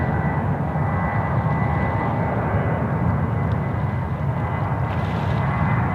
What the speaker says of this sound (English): Powering out off to Melbourne as Jetstar 507.